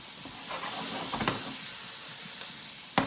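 Garlic sizzles steadily in a hot pan, a soft continuous frying hiss with occasional stirring scrapes and a sharp clink near the end, with no talking.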